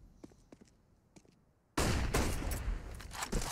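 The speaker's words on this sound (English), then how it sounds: "The perfect flashbang, and the shot from Kenny almost confirms that he got caught by it." A Counter-Strike match in an esports grand final: quiet ambience with sparse faint clicks gives way midway to a sudden loud burst of gunfire and a flashbang blast, followed by sustained rapid shots and crackling.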